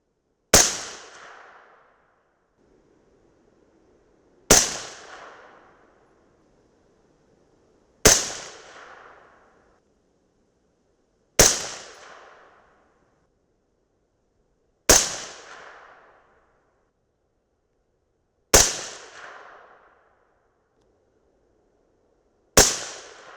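Seven sharp .223 Remington rifle shots firing 77gr Sierra MatchKing bullets, each a loud crack with a quick decaying ring, spaced about three to four seconds apart, with no talking between them.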